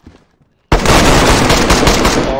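Automatic gunfire in the video game DayZ bursts in suddenly after a near-silent moment, a loud, continuous rapid stream of shots that runs unbroken to the end.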